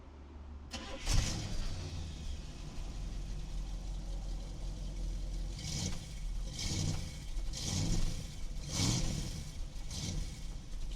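A 1965 Buick Riviera starts up, heard from the rear by the exhaust: a brief cranking catch, then a low steady idle rumble with several soft swelling revs, fairly quiet and with no speech.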